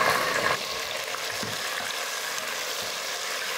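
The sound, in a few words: onions and tomato sautéing in pan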